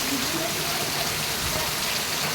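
Steady, dense hiss of monsoon rain falling in a village, even and close throughout with no pauses.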